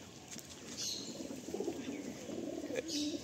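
Pigeons cooing softly inside a loft, with low repeated coos and a brief chirp or wing flutter over steady background noise.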